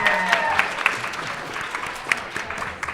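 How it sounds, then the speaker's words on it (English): A live audience at a BroadwayCon 2020 podcast taping applauds steadily for about three seconds, a dense, even patter of many hands with a few sharper claps poking out, close and moderately loud with no talk over it. "Give you all a round of applause."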